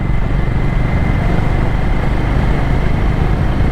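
A Honda CB 350 motorcycle cruising a dark state highway at night gives off a loud, steady engine-and-road rumble that holds unbroken from start to finish.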